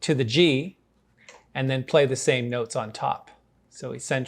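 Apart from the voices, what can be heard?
No everyday noises stand out.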